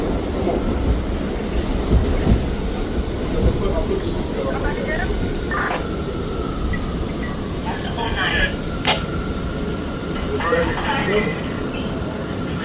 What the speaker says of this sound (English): a Manhattan Bound and local train